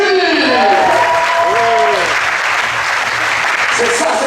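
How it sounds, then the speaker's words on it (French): A resort audience applauds, loud sustained clapping filling the whole stretch close by, with a voice speaking over the start of it. "un tonnerre d'applaudissements, s'il vous plaît, pour votre animatrice"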